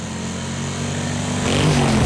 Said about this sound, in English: more revving